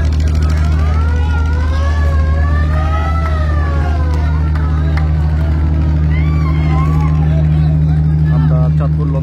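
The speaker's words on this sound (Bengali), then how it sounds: "লঞ্চটি ইতিমধ্যে ঘাট থেকে ব্যাক গিয়ার দিয়ে দিয়েছে" A passenger river launch backs away from the Chandpur launch ghat in reverse gear, its engine a loud, steady low diesel hum that runs throughout while people talk over it.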